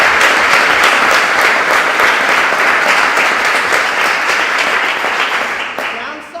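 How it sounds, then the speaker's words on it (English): Sustained, loud applause from an event audience fills the stretch, a dense wash of many hands clapping that holds steady before easing off at the very end. "Give yourselves a round of applause"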